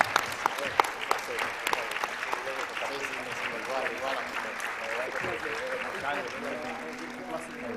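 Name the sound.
applause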